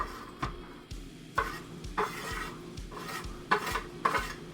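Onions and hash browns fry in plenty of oil in a pan, heard as a series of rhythmic scraping stirs with a soft sizzle underneath, close and without speech.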